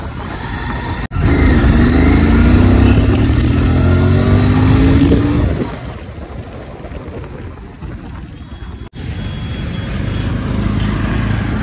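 A 2024 Royal Enfield Continental GT 650 motorcycle revs loudly and accelerates, pitch sweeping upward through gears before dropping off to a lower rumble, then building again near the end.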